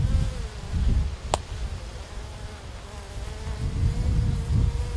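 A bee held in a beekeeper's hand buzzes steadily close by, a low droning hum swelling and easing, with one sharp click partway through.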